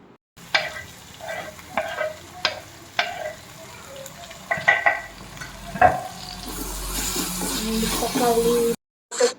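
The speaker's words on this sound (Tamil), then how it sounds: "ஸோ இதோடவே நான் வந்துட்டு தக்காளி ஆட் பண்ணிக்கிறேன்" Tomatoes tipped into a pan of fried onions, with a series of sharp stirring knocks and scrapes followed by a rising, steady sizzle and hiss near the mic that cuts off abruptly.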